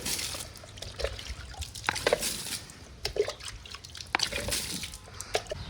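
Water is sprinkled by hand in a rural farm setting, giving faint, scattered splashes and drips in irregular bursts, with no talking.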